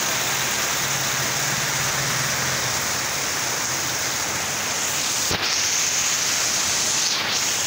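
Heavy monsoon downpour pours onto a flooded street, a dense, steady roar of rain that stays constant and loud throughout, with no voices.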